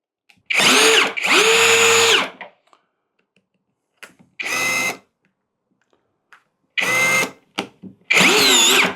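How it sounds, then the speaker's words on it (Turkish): Assur cordless drill from a three-piece battery tool set driving a screw into a wall plug, in several separate loud whirring bursts of about a second each with short silent pauses between them. "Şimdi önce ne yapalım biliyor musun? Vida atalım."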